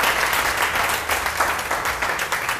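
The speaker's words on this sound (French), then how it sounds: "applaudissements pour lui." Audience applauding a speaker at a youth art and culture event, a dense, steady wash of clapping hands throughout, no talk over it.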